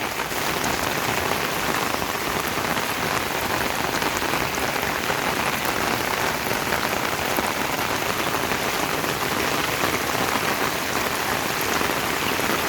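Monsoon rain pours steadily onto a road, a dense, even wash of countless drops that stays loud and unbroken throughout, with no voices or other sounds breaking through.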